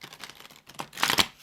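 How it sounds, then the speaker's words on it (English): Tarot cards being shuffled by hand, a dry papery riffling and crinkling that comes in quick close bursts and grows louder near the end, with no voices. "But then obviously I shuffle again to see what comes out for you."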